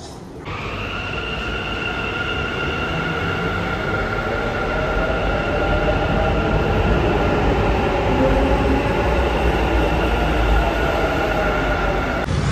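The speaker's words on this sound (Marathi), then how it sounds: "आणि आम्ही पकडतो इथून मेट्रो" Bangalore metro train running, a steady loud rumble with high whining motor tones held throughout, heard from inside a carriage with no talk.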